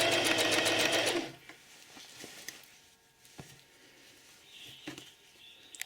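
A sewing machine stitching a raglan-sleeve t-shirt runs in a fast, close whirring burst for about a second, then stops, leaving faint scattered clicks and handling noises.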